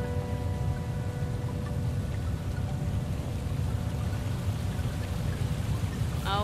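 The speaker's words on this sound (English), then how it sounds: "Okay, the waterfall is very loud." A loud waterfall in the video game Superbrothers: Sword and Sworcery, a steady broadband rushing and hissing of falling water that holds constant throughout, with a faint tonal hum underneath.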